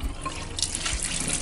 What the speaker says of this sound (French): Donc je les ai fait tremper et je vais les rincer.